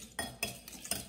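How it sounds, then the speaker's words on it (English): French toast egg mixture is stirred in a bowl, four distinct scraping strokes spaced evenly and heard up close, with no talking. "now we're just going to mix it all up"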